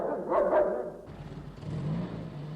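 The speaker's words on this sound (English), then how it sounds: "And he barked louder when he saw Midge being cleared into the sack too." A dog barks in a 1969 animated children's programme, a couple of quick close yaps followed by a softer rumbling growl-like tail, with no talking over it.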